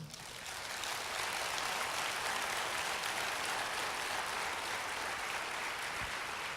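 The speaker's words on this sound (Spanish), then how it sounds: "Ahora denme una ofrenda de palmas al Señor." A church congregation claps together in praise, a dense, steady wash of applause that swells quickly and holds evenly, heard from within the room with no voices over it.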